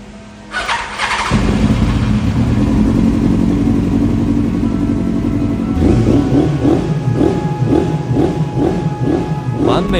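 A Yamaha R1 motorcycle, an older bike with a freshly repaired carburetor, starts after a brief squeal and settles into a loud, steady idle, with rhythmic revving blips in the last few seconds.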